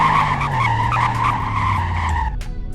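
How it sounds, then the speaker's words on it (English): A car in Roblox Greenville brakes hard, tires squealing in a sustained skid as the engine note falls away, loud and close, ending abruptly with a short scuffing tail. "Let's check the braking."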